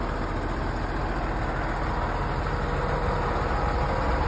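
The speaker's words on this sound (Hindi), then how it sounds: "इसके इंजन की साउंड को आप सुन सकते हैं।" A Mahindra Blazo X55 tractor-trailer truck with a 7200cc six-cylinder engine idles steadily up close, a loud, even low rumble with no pauses and no voices.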